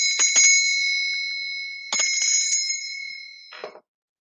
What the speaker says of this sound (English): My little Scottish bell.